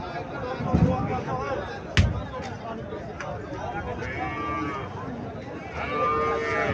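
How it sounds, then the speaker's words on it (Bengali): Cattle lowing at a Qurbani livestock market in Cumilla, where a calf is shown, with moos rising over crowd chatter and people talking nearby amid a sharp knock or two. "এখানে একটা সুন্দর বাছুর দেখা যাইতেছে"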